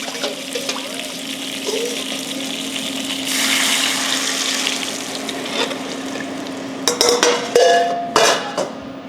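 Liquid, about a cup, swirled and stirred in a skillet to deglaze the oxtail seasoning: a steady watery wash that swells midway, then a few sharp clinks and scrapes of utensil on pan near the end.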